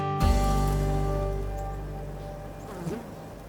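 Bees buzzing in an old shed holding a large colony, a steady close drone with sustained harmonic hum that holds throughout, swelling briefly near the end.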